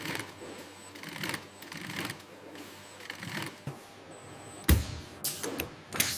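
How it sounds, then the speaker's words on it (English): Sewing machines in a clothing recycling factory assembling garments from recycled fabric pieces, with soft mechanical whirring and clicks in a busy room, a sharp clatter near the end. "Sewing teams assemble the pieces into new clothes."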